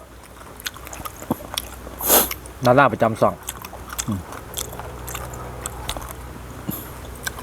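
Crunchy biting and chewing of pork som tam close to the mic, a few crisp crunch bursts while someone talks over it.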